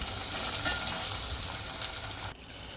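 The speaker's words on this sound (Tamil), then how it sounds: "நசுக்கி வச்சுருந்து சின்ன வெங்காயம் சின்ன வெங்காயம் போட்டு நல்லா வதக்கி விடுங்க" Crushed shallots sautéing in a pan for a country-chicken soup, giving a steady close sizzle with occasional stirring scrapes, easing slightly near the end.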